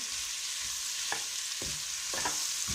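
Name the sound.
tomatoes and green chilies added to frying pan, sizzling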